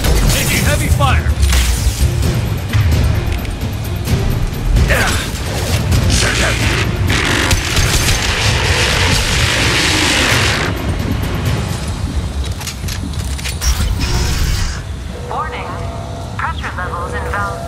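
Heavy gunfire and explosions in the Mass Effect 2 video game: a dense, loud, continuous barrage of booms and crashes with mechanical clatter, and game voices speaking over the fighting.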